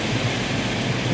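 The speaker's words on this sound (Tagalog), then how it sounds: "Kita niyo po ba yung ulan? Pati yung ulan po talagang hinahangin na rin." Wind-driven rain on a blustery morning in Hong Kong, heard from a high vantage point: a steady, dense broadband hiss with a low rumbling undertone, constant and fairly loud throughout, no voices.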